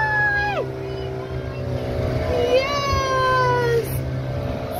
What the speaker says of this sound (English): Oh, look at the ferry sailing by!